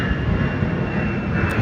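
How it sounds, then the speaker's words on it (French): A fixed-wing airplane drones steadily overhead, a continuous loud broadband roar of engine noise that holds evenly throughout without any talking. "Encore un avion."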